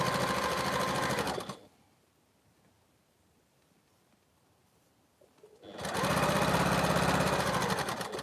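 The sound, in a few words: sewing machine stitching a quilt seam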